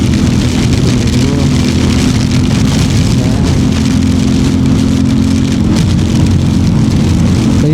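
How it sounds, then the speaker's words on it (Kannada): Steady rain patters over a constant low drone while on the road to Gokarna, the wash dense and unbroken throughout, with no voices. "ಚಾರ್ಜ್ ಇಲ್ಲದ ಟೈಮಲ್ಲೇ ಬರುತ್ತೆ ಮಳೆ."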